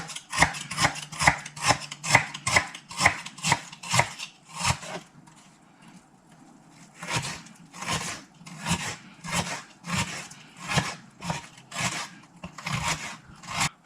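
Knife finely chopping onion on a board for sausage risotto, a fast run of sharp, evenly spaced cuts, then a brief pause and a second, slightly softer series of chops, close and clear with no talking.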